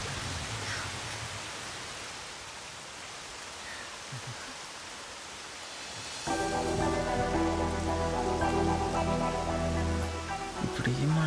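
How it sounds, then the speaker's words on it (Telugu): Rain falls steadily in a continuous hiss, and music joins partway through and carries on over the rain to the end. "వర్షం చాలా చల్లగా ఉంది కదా"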